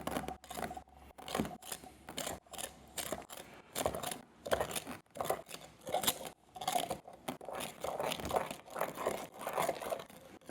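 Gritty scraping and rasping of a spoon stirring a coarse sand, salt and water mixture in a container, steady and close, with repeated strokes and no talking.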